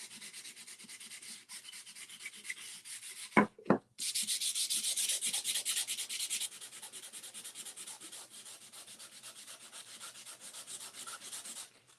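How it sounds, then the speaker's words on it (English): A wooden rustic frame is sanded with steady, close scratchy strokes, interrupted by a brief knock and a short pause before a louder stretch of rougher sanding, which then settles back to a lighter rubbing rhythm. "Normally when I do some sanding, I'm outside using my palm sander."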